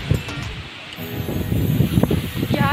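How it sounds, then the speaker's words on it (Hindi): Strong cold wind gusting outdoors by a gurdwara during Baisakhi celebrations, a steady rushing blow with rustling leaves and buffeting against the microphone, continuous and fairly loud throughout. "उफ, इतनी तेज हवा चल रही है"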